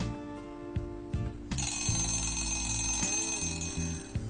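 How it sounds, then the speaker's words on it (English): An electronic alarm rings continuously in a steady repeating pattern, fairly loud and close, with no voices. "We wake up in the morning at the sound of the alarm."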